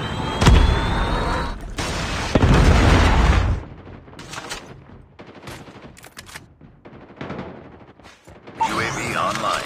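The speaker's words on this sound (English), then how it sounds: "Predator missile inbound" A predator missile strike in Call of Duty Mobile sets off heavy booming blasts early on, followed by scattered gunfire and fusillade bursts amid battle noise, with a voice heard.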